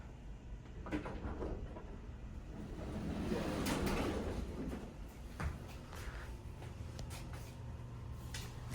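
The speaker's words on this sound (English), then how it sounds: "Thin 2-speed door." A thin two-speed door on an Atlas hydraulic elevator slides open and closed with a steady mechanical rumble, faint clicks and knocks, close and moderately loud.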